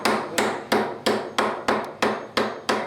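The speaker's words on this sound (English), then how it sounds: "Hammer those in real well" Caster sleeves with biting teeth are hammered into wood with a hard hammer, nine sharp, evenly spaced strikes landing close and loud with a slight ring after each.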